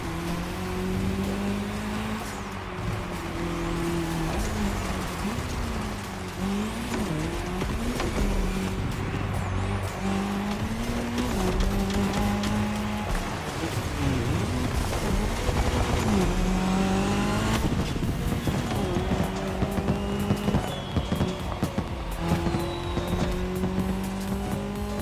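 Race cars at the Red Bull Speed Clash, a cross-terrain race, now on tarmac: continuous loud engine roar with rising and falling revs, gear changes and tire noise, several cars close together throughout.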